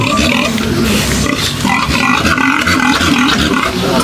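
A mother pig on a farm grunts and snorts in loud, close, rough bursts that repeat through the moment, with no talk over them.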